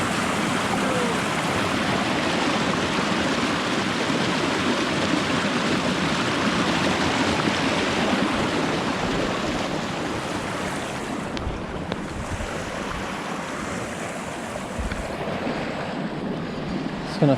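Continuous surf washes and crashes against rocks nearby, a dense rushing roar of water with wind mixed in and no voices.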